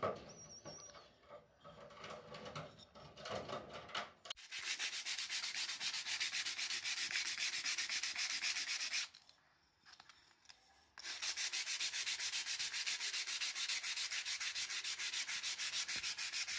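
A wooden part for a homemade cap gun is sanded by hand, giving a steady, close rasping rub that runs in long continuous strokes, pauses briefly, then resumes at the same even pace.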